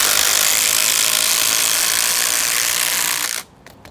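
A 12V impact driver drives a 10 inch screw, a continuous loud rattling hammer buzz that runs steadily for over three seconds, then cuts off abruptly into near silence.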